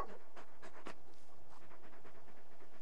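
Soft, quick panting from a large dog companion in the video game Final Fantasy XVI, a few breathy puffs followed by faint rhythmic breathing, quiet and close.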